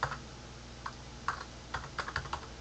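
Short bursts of keystrokes on a computer keyboard as a command is typed into a console window. The clicks come close and fairly quiet, in small uneven clusters against a faint background hum.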